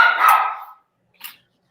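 A dog barks once, a single loud, close bark that fades out, followed by a shorter, fainter yip a moment later, with no talking.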